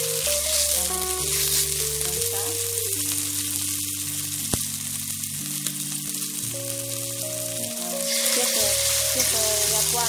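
Pieces of chicken thigh fry in a very hot wok, making a constant bright sizzle under louder background music that plays throughout, with no talking.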